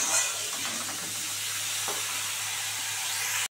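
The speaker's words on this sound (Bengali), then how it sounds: "আলু কপিটাকে সুন্দর করে ভেজে নেবো লাল করে" Potato and cauliflower fry in hot oil in a pan, a continuous loud sizzle with occasional scraping stirs, close up and with no talk.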